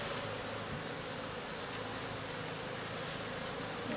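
A swarm of aggressive honeybees buzzes continuously around an opened beehive during an inspection, a dense, steady hum that fills the whole stretch without pause.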